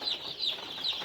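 Andijan black chicken chicks on broiler feed peep in a quick series of high, thin calls, three chirps over about a second, near and fairly faint.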